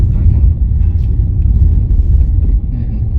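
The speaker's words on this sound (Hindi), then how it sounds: "ये शुरू हुआ है, गाड़ी मूव कर रही है।" A car begins moving near a toll on the Delhi Meerut Expressway, giving off a steady, heavy low rumble of engine and road noise throughout.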